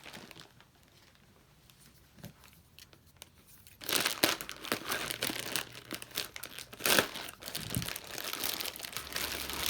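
Scissors cut open a plastic bag of thrifted jewelry. After a few quiet seconds, close, irregular crinkling and tearing bursts break out and continue to the end.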